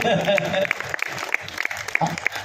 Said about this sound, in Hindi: तालियां कम बजाते हैं आप